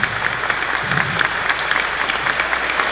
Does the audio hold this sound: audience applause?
yes